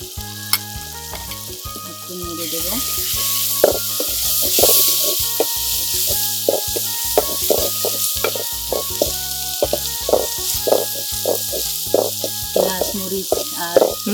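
Spices, garlic and dried fish fry in a pan, sizzling and hissing steadily while being stirred with repeated scraping strokes and occasional clicks, with people talking faintly in the background.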